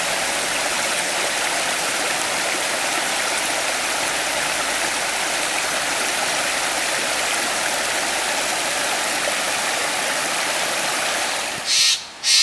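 A waterfall at Big Sur roars as a loud, steady broadband rush of falling water, constant and close, with a brief disturbance near the end and no voices.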